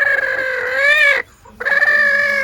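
A hen near farmyard turkey and duck eggs gives two drawn-out, nasal squawking calls separated by a short pause, loud and close, with no talking over it.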